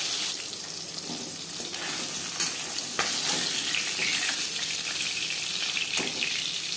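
Pieces of katla fish sizzle steadily in hot oil in a pan, a continuous crackling hiss with a few sharper pops, close and fairly loud with no talking.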